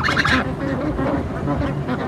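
Mixed farm poultry, ducks, chickens and geese, being fed a whole egg on a farm, make a dense, continuous clamour of overlapping calls close by. A sharp honking burst comes at the start, and faint voices sit beneath the flock.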